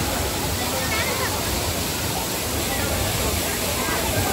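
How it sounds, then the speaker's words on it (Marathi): At Bhavali dam near Igatpuri, Nashik, a waterfall roars as a dense, unbroken wash of noise, close and loud for a few seconds, with faint crowd murmur beneath. "किती मस्त धबधबा दिसतोय"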